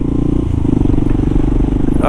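A Kawasaki KLR motorcycle engine with a freshly rebuilt top end, new valve, head gasket and water pump, idles at about 1500 rpm in a steady, loud, even low throb, with a brief higher noise at the end.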